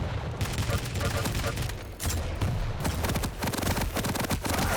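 Dense rapid gunfire and explosive blasts from rockets and shotguns in a competitive shooter video game, loud and continuous with overlapping bursts and a voice talking over.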